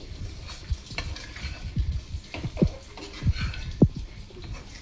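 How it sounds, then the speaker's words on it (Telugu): Goat blood frying in a pan on a low flame, with a spoon stirring and scraping, several sharp clinks against the metal at an uneven pace, close and fairly quiet. "చిన్న మంట మీదనే వేపుకోవాలి."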